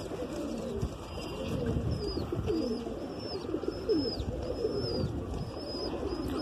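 A Madrasi pigeon coos repeatedly in steady, evenly spaced calls, close by and alone, over a dense background of other birds chirping.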